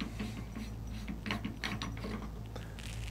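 A Rugged suppressor is twisted off its universal mount, giving a close, steady series of small ratcheting clicks as the locking collar turns, with no talking.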